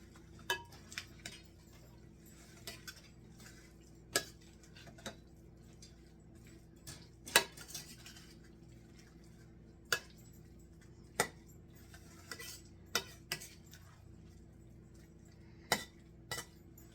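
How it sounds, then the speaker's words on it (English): Ham and noodle casserole being stirred in a pot, heard as sparse sharp clinks of a utensil against the pot, spaced irregularly over a quiet background, with no talking. "I'm going to get this all stirred up, all mixed, until the noodles are done"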